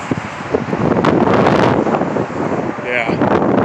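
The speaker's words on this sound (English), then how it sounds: "It's not raining right now, but it got super windy." Strong, gusty wind from a severe thunderstorm in southwest Michigan roars and buffets the microphone in a continuous loud rush, with a voice speaking through it.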